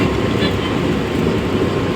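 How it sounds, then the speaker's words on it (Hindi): Vande Bharat Express on the Nizamuddin to Khajuraho route, a steady, close rumble of rolling train noise that holds at a constant loudness throughout, with no voices. "ऐसी कुछ हमारी ट्रेन थी।"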